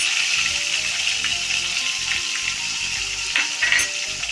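Tomato and chili fry in a pan, giving a dense, continuous close sizzle with a brief splashy burst near the end and no talking.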